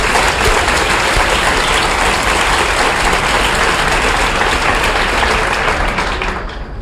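Loud, full audience applause at a talk by Jane Goodall, dense clapping sustained across the whole stretch and tapering off just at the close.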